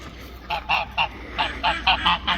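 A goose at a duck pond honks repeatedly, about eight loud, nasal calls in an uneven rhythm, close by and on its own without talk.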